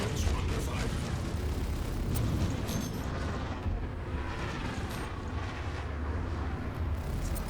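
Ship weapons fire and impacts on a Hornet during a Star Citizen space battle, a continuous heavy rumbling roar with crackling blasts and booming hits, loud and dense throughout.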